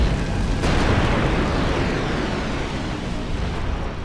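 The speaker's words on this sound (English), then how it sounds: "Now we're gonna bring out Ifrit" The Ifrit summon unleashing a fire attack in Final Fantasy X HD: a loud, sustained roaring blast like an eruption, holding steady for about four seconds and slowly easing off, with no voices over it.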